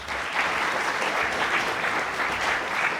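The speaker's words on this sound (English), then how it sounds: "So a big round of applause for Jens." An audience at a school event in Malmö, Sweden gives a steady, even round of applause for the principal, moderately loud and continuous throughout.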